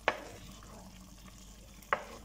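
Tomato goes into chicken frying in a pan for kinamatisang manok, a soft sizzle under two sharp scraping stirs of a utensil at the start and near the end.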